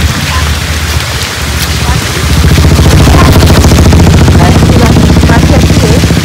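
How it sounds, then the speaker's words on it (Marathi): Rain begins falling at an outdoor market selling wild vegetables, a loud, dense hiss and patter that thickens and grows heavier partway through, with voices of people talking underneath. "बापरे पाऊस आला"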